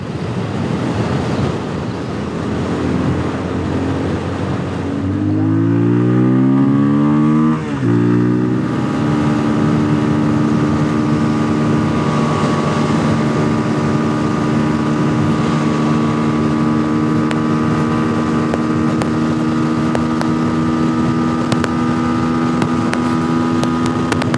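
A Benelli Leoncino 250 motorcycle engine roars loudly while riding, climbing through rising pitch sweeps as it revs up, then settles into a steady high drone with wind rushing past.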